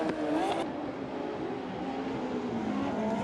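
Speedway sidecar racing bikes roar down a dirt track's grandstand straight, a loud sustained engine drone with shifting pitch as the machines pass, heard from trackside.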